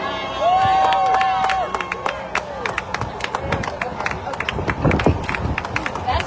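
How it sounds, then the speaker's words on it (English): Street rally crowd shutting down Labor Day traffic in the Nation's Capital, with scattered clapping and cheering amid loud hubbub, a whistle-like tone early on, and people talking throughout. "Keep those applause going."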